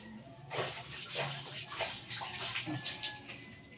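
Food being washed under running water while cooking, a soft continuous splashing rinse with faint watery bursts, low in level.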